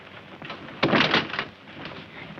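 A locked door is rattled and shoved in a tense 1941 film scene, a sudden loud clatter of wood and hardware against a low steady background, then fading back to quieter muffled knocking.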